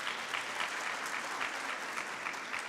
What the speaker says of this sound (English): Can we please clap for our speakers?